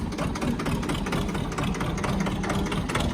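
A vehicle engine idles steadily at close range during brake and steering repair work, giving a continuous low rumble with a faint rough knocking texture, no voices.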